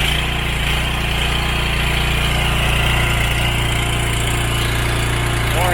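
A Honda pressure washer engine runs steadily nearby, a loud droning hum with constant vibration, alone without talk.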